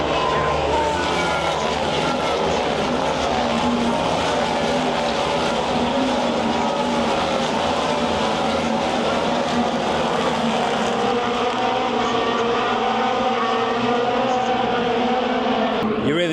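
Formula 1 race cars pile around a bend at the Austrian Grand Prix, a loud sustained roar of multiple engines streaming past close by, with layered high-revving whines overlapping throughout.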